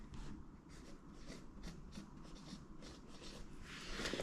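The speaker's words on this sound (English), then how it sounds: "I'm just going to write on them the variety that I've sowed in each one." Marker pen writing variety names on tape stuck to plastic milk jugs used for winter sowing seeds, a steady close scratchy rubbing with short repeated strokes, no talking.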